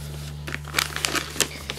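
A plastic bag full of car trash is crumpled close up, giving a run of irregular crinkling crackles over a steady electrical hum.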